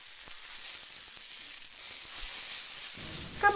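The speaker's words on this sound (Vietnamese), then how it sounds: "cuối cùng, chúng ta sẽ thêm cá vừa chiên và rang." Fried fish stir-fried in a pan with salt, chili powder and lemongrass gives a steady soft sizzle and hiss, with light scraping and a brief clatter at the end.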